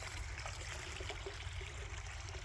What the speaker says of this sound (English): And I'm going to put rock all the way around it, and there's my waterfall.